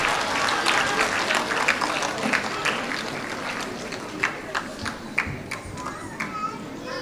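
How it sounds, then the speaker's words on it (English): At a school annual day, an audience claps in a busy, crowded hall, the applause mixed with children's chatter and movement, fairly loud and continuous, with scattered sharper claps near the end. "Can I have a big applause?"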